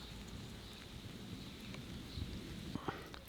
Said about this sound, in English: You can hear it rumbling in the background, and we're having some torrential rain.